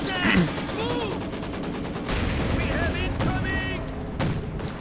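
Rapid flak panzer gunfire rattles in bursts during a Company of Heroes 2 1v1 match, with sharp cracks and booms and someone talking throughout.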